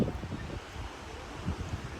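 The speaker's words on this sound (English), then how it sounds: "it's kind of windy" Gusty wind buffets the microphone with low rumbling bursts, fairly faint and outdoors on a mountain shelf road.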